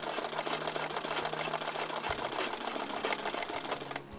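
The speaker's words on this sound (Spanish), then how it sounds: "Pues estamos bordando un poquito" An embroidery sewing machine stitching flowers for a cushion, a fast steady mechanical chatter of needle strokes with a faint motor hum, close and continuous, then briefly easing near the end, with no talking.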